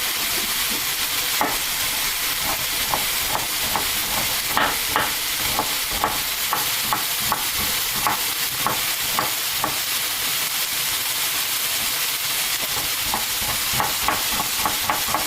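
Minced pork stir-frying in a frying pan, a soft steady sizzle broken by regular scraping and tapping strokes of a spatula, fairly quiet and without voices.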